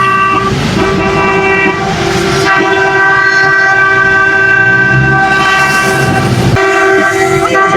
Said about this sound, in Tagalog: Busina, busina.